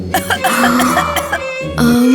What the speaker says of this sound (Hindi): मुझे खांसी लग रही है।